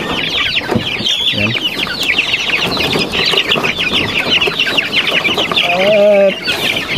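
A crowd of hungry farm chicks peeps and clucks continuously at close range before feeding, loud and dense, while a person says a word briefly near the end.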